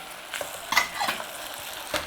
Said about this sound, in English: Nice little stir on in there, look.